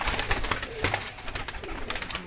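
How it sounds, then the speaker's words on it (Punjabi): Neel Lamba pigeon, a prized Faisalabad breed, coos in repeated close, soft throaty rolls with a steady murmur behind, no talking. "ਕਬੂਤਰ ਹੈ ਨੀਲ ਲੰਬਾ ਇਹ ਵੇਖੋ ਸਾਡੇ ਫੈਸਲਾਬਾਦ ਦੀ ਆਨ ਸ਼ਾਨ ਨੀਲ ਲੰਬੇ ਕਬੂਤਰ"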